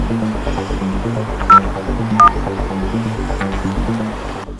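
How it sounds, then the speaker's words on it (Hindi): Phone keypad dialing tones, a run of short beeps in steady rhythm over a low background hum, close and clear, without any voices. "हल्लू मिस कॉल देती हूँ उसको जरा।"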